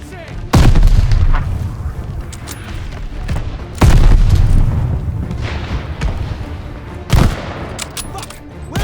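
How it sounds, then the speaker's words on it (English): Mortar fire in Call of Duty: Vanguard, with three heavy booming blasts landing a few seconds apart, loud and rumbling, over continuous battle noise and gunfire with shouting voices. "Where are the mortars?"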